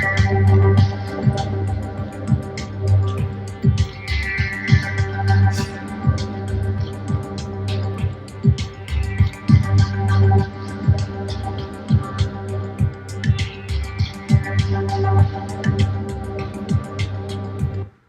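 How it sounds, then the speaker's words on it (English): A looping ambient music track with a droning low pad, scattered clicky percussive hits and hazy textures, playing steadily without voices. "a list of loops and background ambient tracks that were royalty free"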